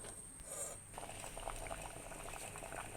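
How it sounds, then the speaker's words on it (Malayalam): Coconut-paste vegetable curry boiling in a pot, a steady close bubbling and light patter throughout with a brief hissy burst near the start, no voices. "അത് ഇതിലേക്ക് ഒഴിച്ച് നല്ലതുപോലെ തിളപ്പിച്ചെടുക്കണം."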